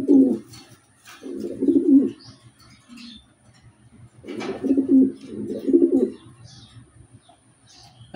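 A large male desi pigeon coos close by in repeated throaty bursts, two clusters of rolling calls separated by quiet pauses, with faint background sounds.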